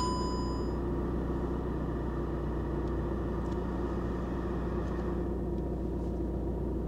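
A VW Golf GTD engine running after a faulty start, a steady low rumbling idle with a brief high whine at first, close and continuous.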